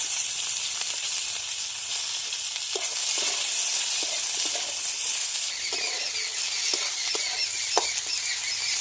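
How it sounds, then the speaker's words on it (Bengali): Onions fry in hot oil with a dried red chilli, bay leaf and panch phoron in a pan, a steady close hissing sizzle broken by occasional soft clicks of stirring. "পেঁয়াজগুলো আমি ভালো করে ভেজে নেব"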